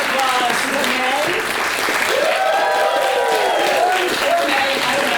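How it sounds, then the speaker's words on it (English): Sustained applause from an improv theatre crowd in Glasgow, thick continuous clapping mixed with rising cheers and shouts, loud and near for the whole stretch. "And even louder applause for May."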